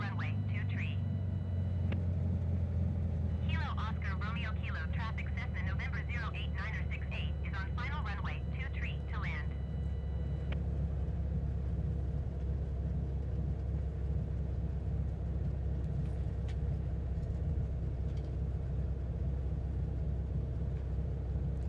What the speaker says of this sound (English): Let's see if that aircraft lands this time.